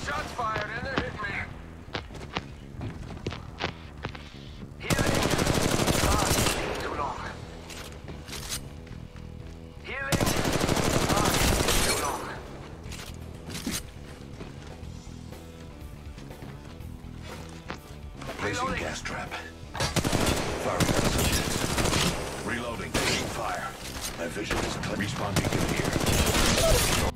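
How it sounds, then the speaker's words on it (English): Bursts of rapid automatic gunfire in the Apex Legends Mobile battle royale game, several loud volleys separated by quieter stretches with footsteps and clatter, with a voice talking in between. "Shots fired and they're hitting me."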